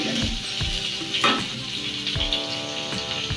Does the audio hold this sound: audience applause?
no